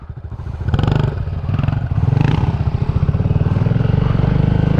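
A dirt bike motorcycle rides in second gear on a gravel road, its engine loud and close with a steady, pulsing drone and some clattering throughout.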